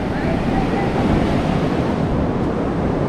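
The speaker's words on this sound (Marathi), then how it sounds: "समुद्र खवाळलाय जाम." Rough sea waves crash and roar continuously on Guhagar beach in Ratnagiri, a loud, dense wash of surf mixed with wind buffeting the microphone.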